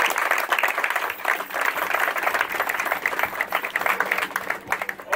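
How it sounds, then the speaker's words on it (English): A crowd at a competition claps for the organizer, with dense, slightly uneven applause that surges and dips in waves throughout. "Everybody, I want to see you clap for the organizer of this competition"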